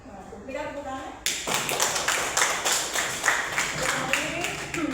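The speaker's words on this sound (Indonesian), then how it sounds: "Berikan tepuk tangan." Classroom audience clapping after a lesson on Islamic history, starting abruptly after a voice and continuing as a close, uneven patter of hands.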